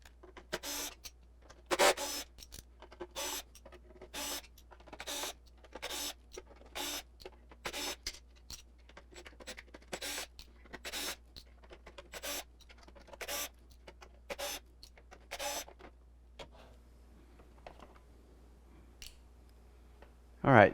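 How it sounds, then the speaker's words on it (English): Small screws being removed from a Logitech G29 racing wheel, sped up: rapid, regular bursts of clicking and ratcheting from a screwdriver, close and fairly quiet, repeating steadily with brief gaps. "we'll go ahead and pull all these little screws out, and we'll change our bit for that"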